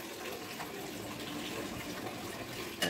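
Steady water running from a bathroom tap, a faint continuous gushing hiss with no break, ending with a brief louder knock.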